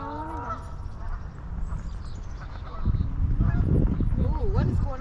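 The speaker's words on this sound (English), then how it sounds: "Birds taking baths." Birds bathe in a creek during a white bass fishing outing: goose-like honking calls ring out at first, then louder splashing and wing-fluttering build up, with more honks near the end.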